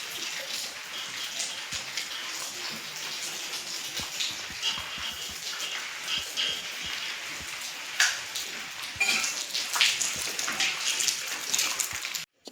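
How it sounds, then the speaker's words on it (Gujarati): Light morning drizzle at the start of the Shravan month, a steady fine hiss of rain on surfaces, continuous and even throughout, with a few slightly louder patches near the end; no one speaks. "ઝીણો ઝીણો વરસાદ ચાલુ છે સવારનો"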